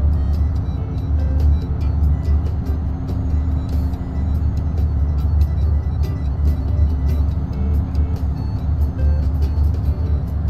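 Truck engine in American Truck Simulator drones steadily with a deep, loud rumble under a continuous road hum, holding an even level throughout with faint ticking clicks scattered above.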